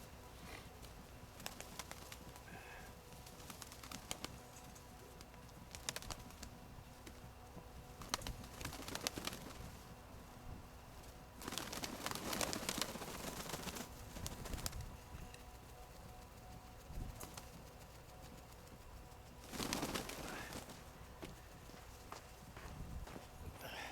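Pigeons in a rural outdoor coop on a mild winter day, soft cooing and fluttering mixed with scuffling steps and scattered knocks, a steady low ambient bed with a few louder bursts of wingbeats or movement, faint and distant, without clear talk.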